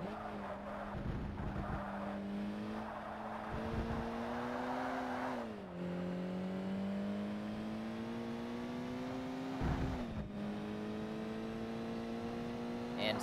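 A race car engine revs hard in the video game Forza Motorsport, a steady loud high-pitched drone that climbs and briefly dips at gear changes, continuous with no talk.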